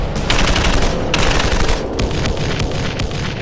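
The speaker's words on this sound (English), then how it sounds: "The Dushka 50 caliber heavy machine gun unleashes its devastating power once more" A Dushka 50 caliber heavy machine gun fires loud, sustained bursts during combat, with short gaps between bursts and a heavy, booming low end.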